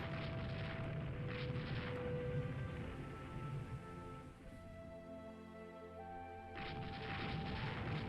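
Battlecruiser main guns firing in a naval strategy game, faint distant rumbling booms layered under a steady low background with brief swells near the start and end.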